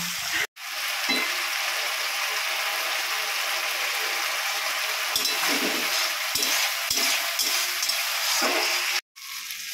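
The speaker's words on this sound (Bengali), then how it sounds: "এবার মশলাটা কিছুক্ষণ ধরে কষাবো" Cashew paste and spice masala fry with a steady, loud sizzle in a pan while a spatula scrapes and stirs in repeated strokes, the frying continuous from start to end with only brief gaps.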